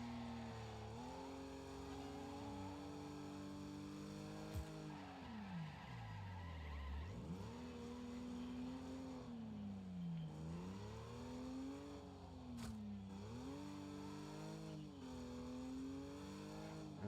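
Racing cars in the game Wreckfest drive steadily, engine tones rising and falling through gear changes and turns, with tyre skids and a couple of sharp impacts over a continuous, loud engine drone; oncoming traffic adds to the roar.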